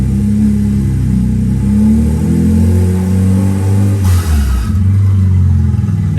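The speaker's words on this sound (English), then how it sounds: "But yeah, engine sounds all right." A DIY forged BMW N54 engine with no exhaust fitted runs loud and close, idling roughly and then revving up and settling with a throaty, uneven drone throughout.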